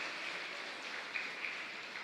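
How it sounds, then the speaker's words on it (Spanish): A congregation applauds during Mass at the Capilla Santa Ana y San Joaquín in Fernando de la Mora, a soft, dense patter of many hands that stays steady throughout, rain-like and somewhat distant, with no voices. "Fuerte aplauso entonces para el Señor"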